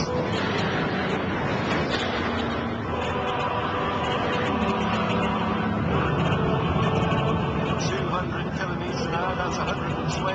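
A Bugatti Veyron accelerates hard down the straight after the banking, a loud sustained engine drone with road and wind noise inside the cabin, and a voice talking over it throughout.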